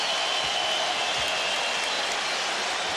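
Arena crowd at a 1997 Knicks versus Heat playoff Game 7 reacts to Isaac Austin's hard foul, a loud, sustained roar of voices and scattered clapping with no break.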